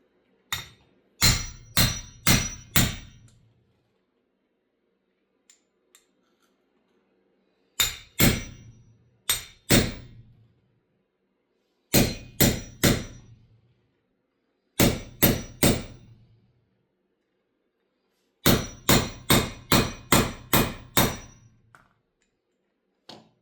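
A Honda TRX 450R/400EX front hub bearing being driven into the hub with a hammer: sharp metallic blows in quick bursts of three to seven strikes, separated by short silences, loud and close.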